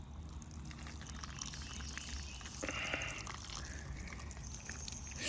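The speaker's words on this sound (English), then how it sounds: "Now the next thing to do is to give it water." Water is poured onto a fig tree whose base is covered in chicken manure, trickling and dripping steadily for several seconds outdoors, close and moderately quiet with no voices.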